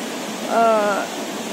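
Ganga river water rushes along the banks in Uttarakhand, a steady broadband wash of flowing water, with a brief tonal, voice-like sound rising over it midway.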